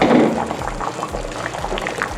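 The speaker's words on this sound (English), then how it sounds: "Okay, now it's just boiling, so we're gonna stir it together." Moringa vegetable soup, utan bisaya, boiling in a pot, with a loud, close, continuous bubbling and gurgling plus a brief splashing stir at the start.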